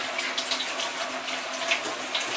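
Tap water runs steadily into a sink as fresh fruit is rinsed beneath it, a continuous close splashing hiss with small irregular spatters and no voices.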